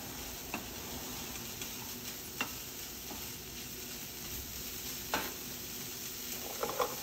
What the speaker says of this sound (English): I'm gonna stir it around.